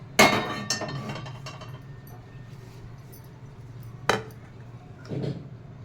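Freshly roasted drumstick leaves (munagaku) for karam podi tipped from a pan onto a plate in a home kitchen, giving a sharp clink, a few lighter taps, then a second clatter and a softer scrape, no talk.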